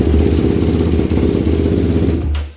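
A 2023 Yamaha YFZ quad's engine, fitted with a Vortex ECU, runs at a steady loud idle right after starting, close and continuous before cutting off near the end.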